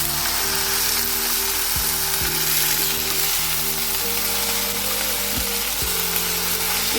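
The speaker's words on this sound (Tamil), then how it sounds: "கொஞ்சம் கிளறி விட்டுக்குவோம்." Vallarai greens being stirred in a hot pan while frying, a continuous loud sizzle with a steady hum and a few scraping knocks of the spatula, no talking.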